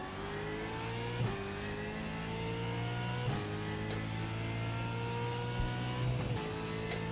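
A Ford Mustang Supercar engine in the iRacing sim, revving high and steady with sharp gear-change dips every couple of seconds, loud and close with no talk.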